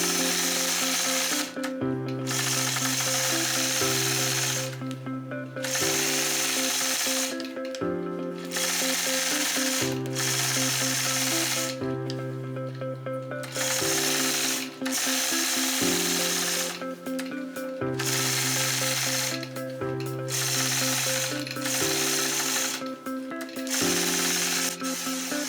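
A sewing machine quilting a modern improv flying geese border, running in steady bursts of fast motor hum and needle clatter that start and stop every couple of seconds, close and fairly loud with no talking.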